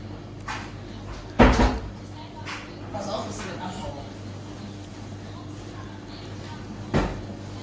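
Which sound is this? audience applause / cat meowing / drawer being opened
drawer being opened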